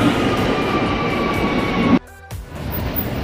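A subway train arrives at a New York City station on a cold snowy day, a loud rumbling roar with high whining tones that suddenly cuts out for a moment, then returns as a softer rumble, with no talk.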